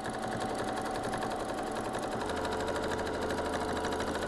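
A sewing machine runs steadily at speed during free-motion quilting of feather designs, a continuous close whirring hum with a fast needle rhythm throughout, no voices.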